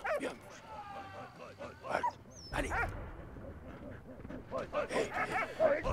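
A dog whimpers and yips in the Valiant Hearts video game, with soft whines and small cries scattered through, under game sounds and someone speaking.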